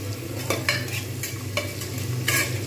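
Onions fry in hot oil over a full flame, a constant close sizzle broken by a few sharp spatters and the scrape of stirring, with no voices.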